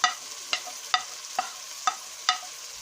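Mustard seeds and spices crackling in hot oil for spicy potato bhujia, heard as a steady run of six sharp pops or taps about half a second apart, fairly close and alone, with no talk.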